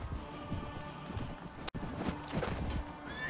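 Horse hooves clip-clop in the Mount and Blade Warband game, a soft, steady run of steps over a busy game soundscape, broken by one sharp loud crack partway through.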